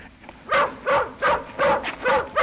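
A dog in a 1940 film barks in a quick run of about five sharp, yappy barks spaced half a second apart, close and clear with no talking over them.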